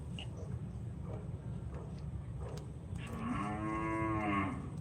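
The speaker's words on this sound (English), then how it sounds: "I could deal with the, cow mooing, even occasional sound from the goats" Cattle mooing in open farmland, one long, loud low moo rising near the end over steady wind-like ambient rumble, alone without talk.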